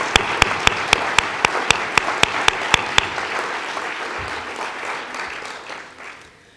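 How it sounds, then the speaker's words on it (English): Audience applause at a facility's grand opening, a dense, fairly loud roll of clapping punctuated at first by a regular series of sharp, close claps, then tapering off into quiet. "Let's give you a round of applause for all you've done."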